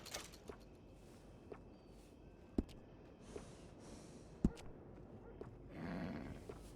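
A horse in the Red Dead Redemption 2 video game gives soft, breathy snorts amid quiet hoof steps, with a few sharp taps and a rushing exhale near the end, all faint and close.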